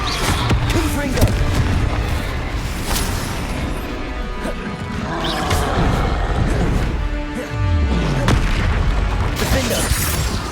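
Spell-casting combat in the Hogwarts Legacy video game, a Confringo fire spell bursting in a loud explosive crash amid dense layered battle effects, several booms and smashes in quick succession under a busy game soundtrack.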